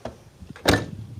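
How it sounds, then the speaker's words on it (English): A Mercedes-Benz W124 car door swings shut with a single solid thunk, close and fairly loud after a quiet moment, with a little low handling noise just before it. "the door close."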